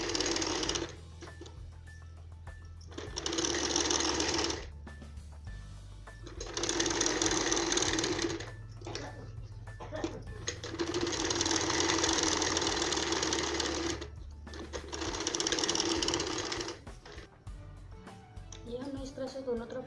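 A sewing machine stitches the side fitting seams on a four-tuck belt blouse in five steady whirring bursts of a few seconds each, with someone speaking in the pauses between them.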